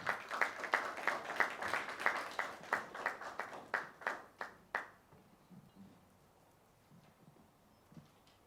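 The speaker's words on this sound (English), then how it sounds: "A round of applause, please, as he comes." An audience at an SME business forum claps for an arriving speaker: a steady, rhythmic burst of applause for about five seconds that then stops abruptly, leaving faint room noise and a few scattered claps.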